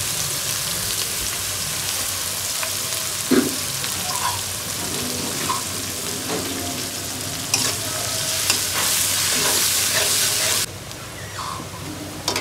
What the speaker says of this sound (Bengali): এখন চিকেনে কিছু পেঁয়াজ আমি দিয়ে দেবো